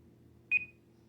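One short, clear electronic beep from a kitchen timer cut off at zero, sounding alone over faint room hum.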